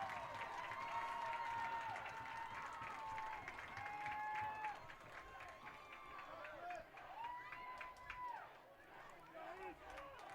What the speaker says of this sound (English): Crowd is going wild after that one.